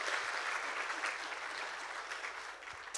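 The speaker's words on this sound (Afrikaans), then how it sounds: "kan ons vir haar 'n hande klap gee." Steady, dense applause from a congregation at a wedding vow renewal, honouring the wedding planner; continuous clapping at moderate distance with no talk over it.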